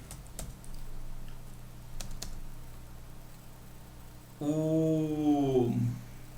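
A few sparse, faint clicks from a computer keyboard as Alt and Tab are pressed while writing Java code, then a wavering whine-like tone rises and falls near the end.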